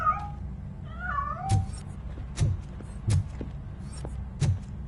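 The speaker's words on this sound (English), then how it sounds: "That cat must be hiding in..." A cat in the RoboCop video game meows a couple of times near the start, followed by a series of soft, evenly spaced thumps, with no speech.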